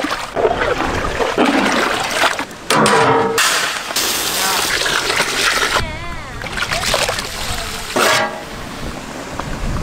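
Water splashes and pours into a pot of chicken biryani masala in a loud, steady stream, with clanks and sizzling-like noise throughout and a few brief breaks.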